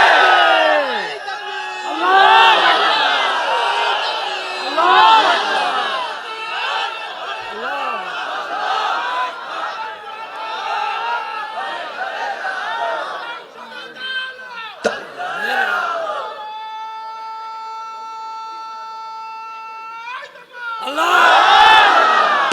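A large crowd at an Islamic sermon gathering in Bangladesh chants the takbir: loud, rhythmic group shouts come in repeated waves with some cheering mixed in, pause briefly around a sustained tone, then swell again near the end.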